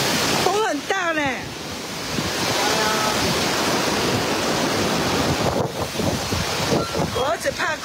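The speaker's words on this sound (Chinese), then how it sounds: "风很大呢。" Strong typhoon wind from the tail of Typhoon Gaemi lashes southern Taiwan amid heavy rain and flooding. Loud, continuous roaring gusts buffet the microphone throughout, with faint voices briefly audible.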